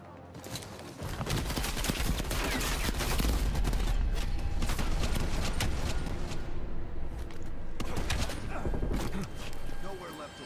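Rapid gunfire from the video game Call of Duty Black Ops, dense bursts of shots crackling loudly and almost continuously for several seconds, with a brief lull before another flurry.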